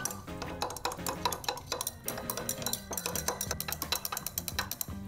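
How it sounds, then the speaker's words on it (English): A spoon stirs a glycerin aftershave mixture, clinking steadily and rapidly against the container in close, continuous bursts, with a faint tonal hum underneath and no talking. "I'm gonna go ahead and give it a good stir"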